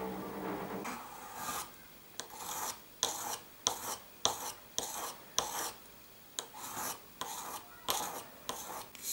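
A Soviet-era chisel being sharpened, with close, rhythmic rasping strokes repeating about once a second in a steady back-and-forth pattern.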